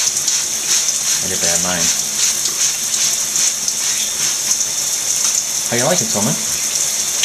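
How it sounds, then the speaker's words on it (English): Shower water runs steadily as a pet bird named Tolman bathes under the spray, a constant hiss of falling water filling the background while a person talks nearby. "He gets to have his time in the shower"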